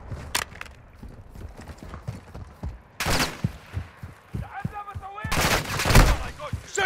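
Bursts of gunfire in Call of Duty: Modern Warfare II DMZ, with several sharp volleys and a long loud burst near the end, mixed with clattering game effects and short spoken callouts.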